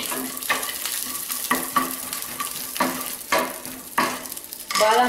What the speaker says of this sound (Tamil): இதல நம்ம முந்திரி பருப்பு பாதாம் பருப்பு பிஸ்ஸா பருப்பை ரோஸ்ட் பண்ணி விடுவோம்